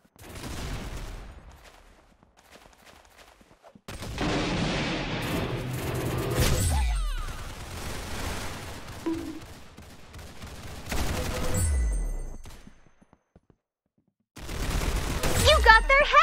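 Bursts of gunfire from guns in the Roblox Arsenal video game crackle and boom in loud volleys, broken by short stretches of near silence.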